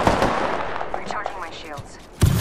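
Gunfire in the video game Apex Legends, a rapid burst of sharp cracks close up, then a brief lull before another loud shot or impact hits near the end.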